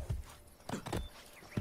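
A horse in a video game clops a few hooves, several sharp, close hits spaced unevenly over a moment, with no one talking.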